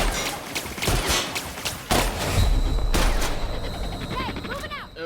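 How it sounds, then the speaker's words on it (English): Loud volleys of gunfire in the sci-fi game The Outer Worlds, with dense bursts and sharp single shots, while a voice talks over part of the firing. "Shoot it in the ass!"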